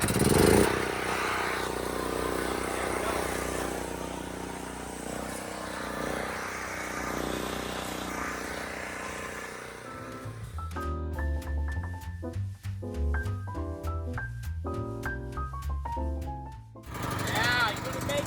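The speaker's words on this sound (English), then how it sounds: "you wanna make sure that your generator is working and it's ready to go" A cold gas generator is started by push button and settles into a steady running drone, loud and continuous, with a higher tonal pattern of other sounds layered over the last seconds.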